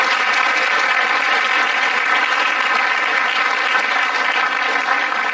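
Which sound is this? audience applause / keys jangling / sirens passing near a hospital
audience applause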